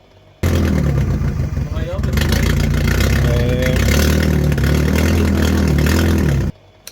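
A rebuilt Toyota Runx engine, still on its old exhaust, runs loud and rough, starting abruptly and holding a steady, heavy roar with a few revs before cutting off near the end.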